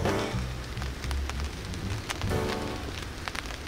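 Rain patters steadily on a camping tarp at a rainy day camp, a dense, even drumming with occasional heavier drips, quiet and close, with no talking.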